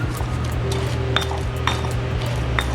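Spoon and utensils clinking against a bowl while turkey stuffing with sage is mixed together, with steady light chinks and clinks over a low background hum.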